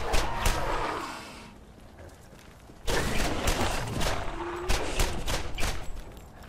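Rapid bursts of gunfire aimed at a skag in Borderlands, loud and dense at first, a brief lull, then another sustained volley of quick shots.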